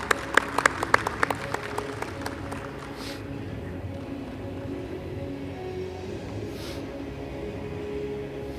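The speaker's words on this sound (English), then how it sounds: "Bigger round of applause," A short burst of audience applause at a conference, loud at first, then thinning out within a few seconds into quiet room noise.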